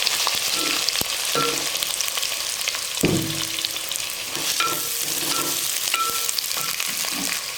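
Garlic and onion sizzle steadily in a pan of oil for a Tamil sardine curry (mathi meen kulambu), with a few sharp utensil knocks and scrapes against the pan along the way.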